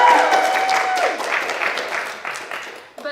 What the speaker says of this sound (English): Performers, you want to give a little cheer?